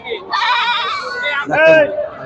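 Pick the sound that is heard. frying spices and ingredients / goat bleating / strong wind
goat bleating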